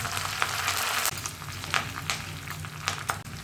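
Ginger and curry leaves fry in hot oil with a bright, continuous crackling sizzle close by. Pops and a few stirring scrapes run through it, and no one speaks.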